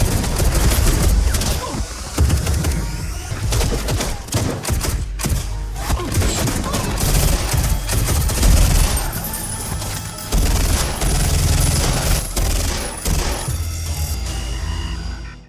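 A dense action-film shootout rages as a woman with a smoke bomb trades fire with building guards: loud, continuous volleys of overlapping gunshots and heavy booms fill the whole stretch, with faint voices buried beneath.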